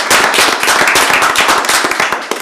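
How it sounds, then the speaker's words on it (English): Applause at a city commission meeting, a dense burst of many hands clapping loudly in a room, sustained for a couple of seconds and then thinning toward the end. "So let's give those people a round of applause too."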